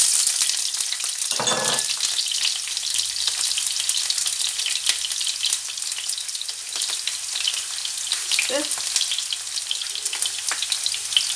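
Onions frying in a pan while a sea bream dish with sweet potatoes is cooked, a steady, bright sizzle that never stops, with a few soft clinks and stirring sounds and no talking.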